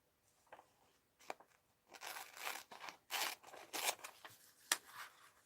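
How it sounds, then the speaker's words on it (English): Scissors fussy cutting paper for a mixed-media art journal, faint close snips and crunchy paper rustles in short irregular bursts, with no talk. "I'm going to cut that out."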